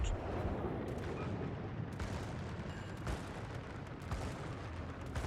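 Heavy battleship gun salvos boom in the naval combat game World of Warships, several deep blasts landing at intervals over a constant low rumble of game noise, fairly distant and muffled, with no voices.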